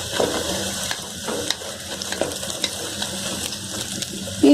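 Green chillies tossed into browned onions in a pan for a green peas pulao, giving a soft sizzle with scattered scraping and stirring clicks of a spoon, close and moderately quiet, with no talking.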